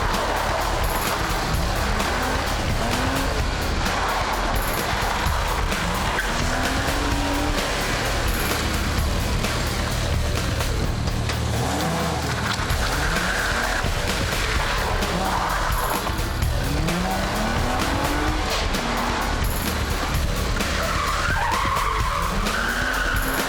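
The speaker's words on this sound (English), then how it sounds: "A pretty fast course had been laid out by the organisers, which had at least 4 handbrake turns." A rally car on a fast gravel-road course in Victoria, Australia, repeatedly skids through handbrake turns, its loud engine rising and falling in revving sweeps over continuous tire and gravel noise.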